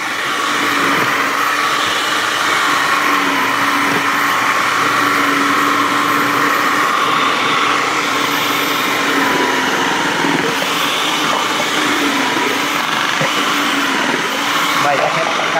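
An electric food processor shredding potatoes, a loud steady motor whine and grinding that runs unbroken for the whole stretch, with someone talking over it.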